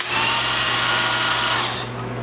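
An impact wrench tightens lug nuts on a truck wheel, giving one loud, continuous rattling whir of about two seconds close to the microphone before it winds down.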